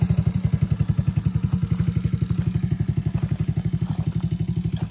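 A gas-powered four-wheeler ATV engine, bought for about $300, warming up outdoors near a barn, running steadily at a close, loud idle with an even, rapid putter of firing pulses and no talking.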